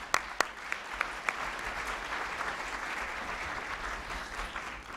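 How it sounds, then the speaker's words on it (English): Luncheon audience applause for Pam Hyde at the National Press Club, a steady wash of clapping across the room with a few sharper nearby claps at the start. "Let's give a great round of applause to Pam Hyde."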